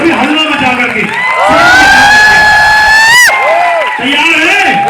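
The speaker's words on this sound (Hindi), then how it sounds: "अपने लिए पर जोरदार तालियां बजा लीजिए, वो भी हल्ला मचा करके।" A loud crowd cheers and whoops with rising shouts and whistles through the whole stretch, the noise swelling in the middle before settling, at a motivational business seminar.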